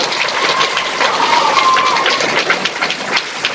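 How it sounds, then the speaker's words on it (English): Audience applause fills a school auditorium after a sixth-grade production of A Midsummer Night's Dream, a dense, steady patter of many hands clapping throughout, close and sustained with no voices standing out. "definite huge round of applause for her"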